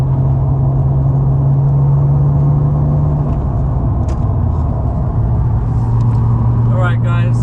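Nissan R34 Skyline, converted to a manual gearbox, driving with a steady engine drone and low road rumble throughout, the note shifting pitch midway as it changes gear.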